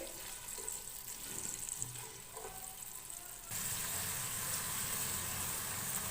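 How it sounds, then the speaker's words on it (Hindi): Chopped onions frying lightly in a pan, a soft continuous sizzle that grows a little brighter and denser midway, quiet and close. "इनको हल्का सा फ्राई करेंगे।"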